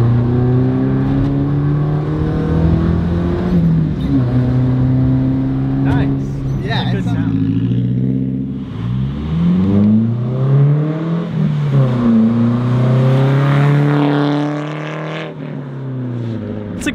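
Nissan 240 drift car with a new aftermarket exhaust and stock engine, revving loudly and close, rising and falling engine tone over sustained idle with pitch sweeps, people talking under it.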